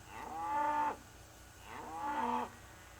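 Cattle in a feedlot pen give two long, drawn-out moos in succession, each rising and then cutting off, fairly close and clear over a quiet background.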